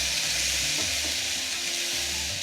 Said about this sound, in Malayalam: ഇത്രയും നന്നായിട്ട് വഴറ്റിയെടുക്കണം